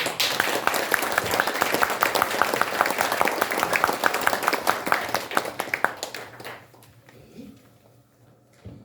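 A room full of people applauds warmly for several seconds, the clapping thinning out and fading into quiet.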